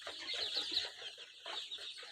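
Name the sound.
Sonali chickens clucking on a poultry farm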